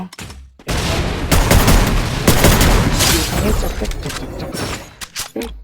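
Rapid shotgun and gun blasts from a shooting video game, a dense, loud barrage of overlapping shots followed by a few scattered final bangs.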